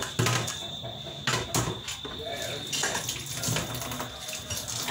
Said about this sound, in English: we're going to rinse and then set water for MJ to take apart.